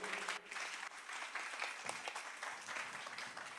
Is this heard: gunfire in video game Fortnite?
no